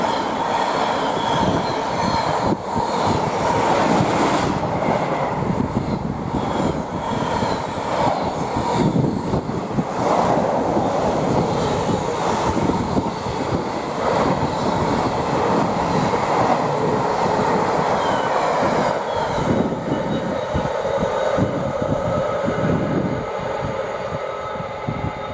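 A Class 66 diesel locomotive thunders through Goring & Streatley station on the Great Western Main Line, a loud, continuous roar of engine and wagons with rhythmic wheel clatter and some squeal, fading slightly toward the end.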